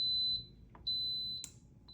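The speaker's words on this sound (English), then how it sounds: "So the machine just beeped," An electric pressure cooker signals it has finished cooking a spinach and kale lentil daal with a few short, high-pitched beeps of uneven length, clear against a quiet kitchen.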